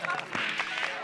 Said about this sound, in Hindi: जोरदार तालियां भाई इनके लिए